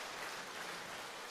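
A church congregation in Seogwipo gives a steady round of encouraging applause, an even, continuous patter of many hands that stays quiet and distant throughout.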